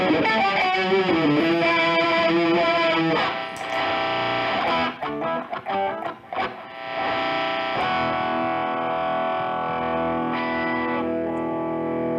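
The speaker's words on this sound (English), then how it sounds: "Sounds like a reverse delay." Guitar played through a T-Rex reverse delay pedal: notes swell backwards into sustained chords, with a choppy burst of stuttering repeats in the middle before the tone settles into a long, washy ringing.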